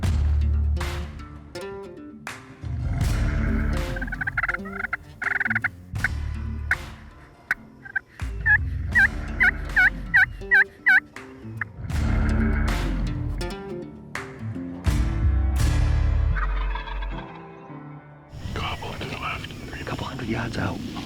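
Osceola wild turkey toms gobble repeatedly, loud, rapid bursts recurring through the stretch, mixed with other fowl calls and bits of quiet speech.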